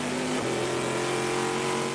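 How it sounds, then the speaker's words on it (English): An aluminum block, titanium valve V8 race car engine at full power, a loud, continuous high-revving roar with a slight pitch rise partway through, alone without talk. "That's the sound of an aluminum block titanium valve V8 pushed to the limit"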